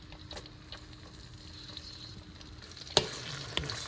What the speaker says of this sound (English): Get all of our aromatics in here.